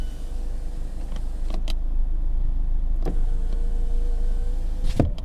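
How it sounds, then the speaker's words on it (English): A car with its engine already warmed up runs with a steady low rumble, broken by a few brief clicks and mechanical clunks, close by and with no talking. "And I'll turn on the car."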